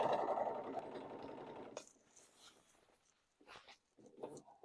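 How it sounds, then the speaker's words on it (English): A sewing machine stitching faux leather runs in a quick whirring burst at the start, then stops, leaving quiet rustling and handling noises. "Take it back to your sewing machine, line it up, and we're going to close that part."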